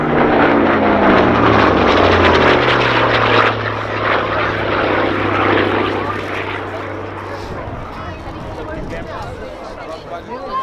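A Hawker Sea Fury piston-engine fighter roars loudly overhead at an airshow with a droning engine tone that holds steady, then gradually fades into the distance.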